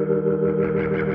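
Hammond B3 organ patch in Logic Pro X played through a distortion effect, a sustained driven chord that drones steadily and loudly with a gritty, saturated edge and no gaps.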